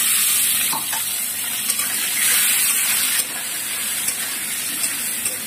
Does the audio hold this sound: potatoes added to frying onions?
yes